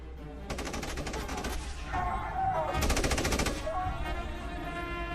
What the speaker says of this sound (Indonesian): Hasan segera berlari menuju perbatasan, tapi perwira penjaga menyuruh anak buahnya untuk menembak Hasan hingga tewas.